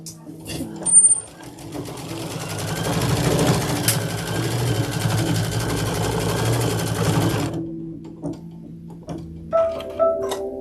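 An embroidery sewing machine stitches the tack-down of body fabric for a seasonal jar topper, a steady rapid ticking whir for several seconds that stops abruptly, with quieter clicks and handling noise before and after.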